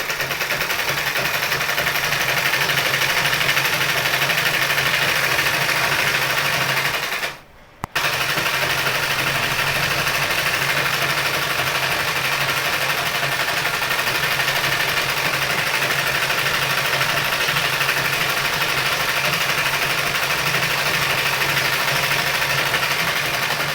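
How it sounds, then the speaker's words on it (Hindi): A sewing machine runs steadily while stitching a double line of reinforcing seam on palazzo pants, a continuous close whirring hum with one brief pause partway through. "दोबारा डबल सिलाई चला देंगे मजबूती के लिए"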